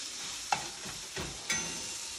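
Portobello and cremini mushrooms sizzle in butter in a pan, a steady close frying hiss broken by a few sharp clicks and scraping stirs.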